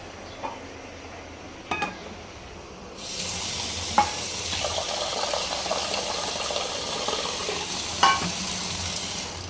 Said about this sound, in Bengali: ঝোল দিয়ে নেই তরকারিতে